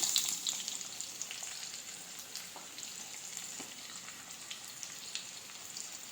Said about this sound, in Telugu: ఇవి కొంచెం ఫ్రై అయిన తర్వాత దీంట్లో మనం ఉల్లిపాయలు వేసుకుందాం